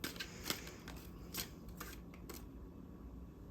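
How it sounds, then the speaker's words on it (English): Tarot cards are shuffled by hand in a few quick, crisp riffles followed by softer sliding, close to the microphone in a quiet room, with no talking. "They want me to keep shuffling"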